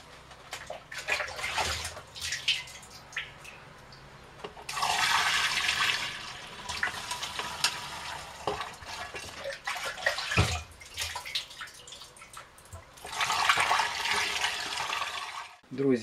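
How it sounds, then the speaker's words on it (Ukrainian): Fermented jam mash being poured from a plastic barrel into glass bottles for home moonshine, heard as two loud bursts of gushing, splashing liquid, with quieter trickling, clinks and handling noise between them. "я вирішив перелити брагу у скляні бутелі"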